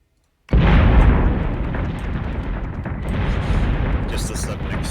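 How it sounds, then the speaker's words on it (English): Shells exploding in the space combat game Battlestar Galactica Deadlock, a sudden heavy boom that rolls into a long, dense rumble of blasts with crackling bursts near the end. "Just a sudden explosion of shells."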